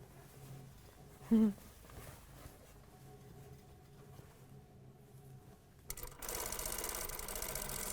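A sewing machine stitching an elastic vest hem starts up after a quiet stretch and runs with a steady, even whir for the last couple of seconds.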